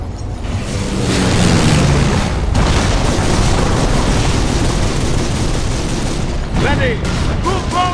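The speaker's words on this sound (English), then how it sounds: "They're fucking shooting at us!" Gunfire and explosions fill a World War II battle scene in the video game Company of Heroes with loud, dense booms and rattling shots, while shouted voices cut in toward the end.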